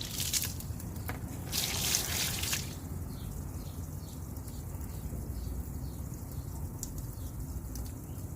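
Water trickles and drips steadily as it drains from the hull of a 2003 Crownline LPX boat, a soft continuous dribble with a brief louder splashing burst near the start, then a thin steady flow.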